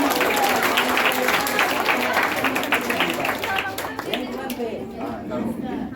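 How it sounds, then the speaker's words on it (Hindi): Audience applause at a school award function celebrating class toppers: dense, steady clapping from a large crowd, loud and continuous, tapering slightly near the end, with voices chattering underneath. "उसके लिए जोरदार ताली दीजिए"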